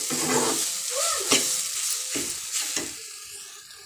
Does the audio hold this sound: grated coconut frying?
yes